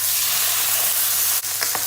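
Loud, steady sizzling of chicken frying in a hot pan, with a brief clink near the end.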